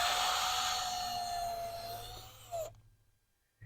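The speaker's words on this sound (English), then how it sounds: "We're just drilling into the wax" A close, steady electric drill whirs as it bores into palm candle wax, running continuously for a couple of seconds before cutting off abruptly.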